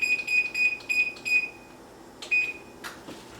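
An oven being switched on and set to preheat at 400, a series of short electronic beeps in quick succession, then a pause and another beep with a couple of button clicks, close by and fairly clear.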